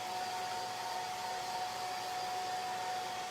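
A hair dryer blows steadily on a chalk-paste sign, a continuous close whirring hum with no talking.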